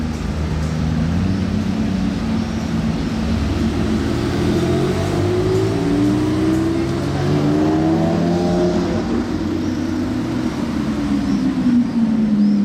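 A Lamborghini Revuelto, Lamborghini Urus Performante and Ferrari 812 GTS drive past one after another on Monaco streets, loud engines rising and falling in pitch as they rev, with no talking.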